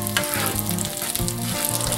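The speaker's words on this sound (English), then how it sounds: "I got the sausage kind of just sizzling there" Sausage and beans sizzle and fry steadily in a pan over medium-high heat, a loud close crackle with faint popping and occasional stirring scrapes, and no voices.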